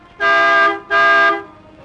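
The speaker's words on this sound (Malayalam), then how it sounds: "ആ ഹോൺ നടിക്ക്." A vehicle horn sounds two loud, close, steady toots, each about half a second long with a short gap between them, and no voices.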